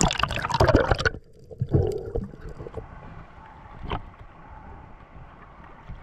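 A small boat heads out from shore into rough, choppy waves on a spearfishing trip, with loud splashing and water rushing at first, then a steadier low hull and engine rumble with occasional slaps.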